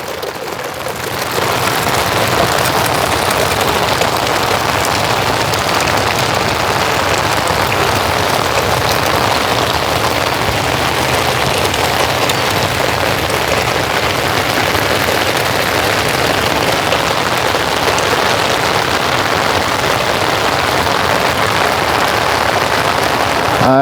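Rain falls steadily on a summer evening near tall sunflowers, a broad, constant wash of patter that starts after a brief quiet moment and holds even throughout.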